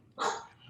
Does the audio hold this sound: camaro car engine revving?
no